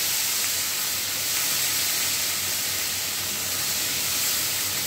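Chopped onions fry in a hot kadai for chicken curry, giving a loud, steady sizzling hiss that holds evenly throughout without pauses or voices.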